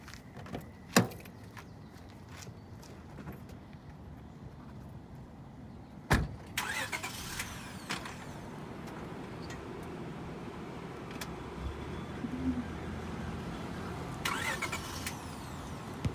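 An old, worn-out car's doors thump shut a couple of times, then its engine cranks and runs as a steady low rumble, heard fairly faintly with no talking.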